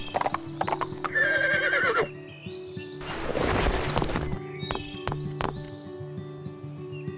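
A horse whinnies and hooves clip-clop in quick rhythm in the PS2 game Barbie Horse Adventures: Wild Horse Rescue, with bright synthetic chimes and a steady musical backdrop.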